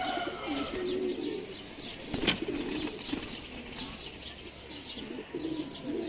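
Teddy pigeons at a Lahore pigeon-keeping loft coo steadily, with soft, repeated low calls layered over chirps and a brief flutter of wings close by.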